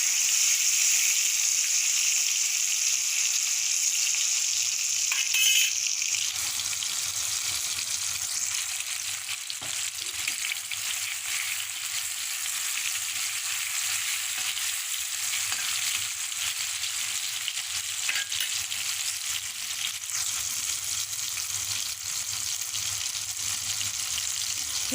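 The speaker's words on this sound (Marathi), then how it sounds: "टमाटर थोडं नरम होईस्तोवर परतून घ्या" Tomatoes sauté in a hot pan with a steady, even sizzle and crackle that holds for a long stretch, close and moderately loud, with brief stirring noises near the start and no talk.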